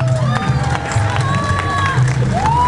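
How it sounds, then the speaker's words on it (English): An audience at a school event with a student rondalla cheers and claps, a loud dense crowd roar with whistles and shouts close by, over a steady background hum. "Give us a big applause to the Rondalla of Rio Bravo."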